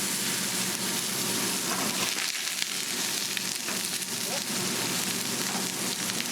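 Filet mignon steak searing in a hot pan, a steady, dense sizzle with crackling spatter that holds at an even level close by with no pauses.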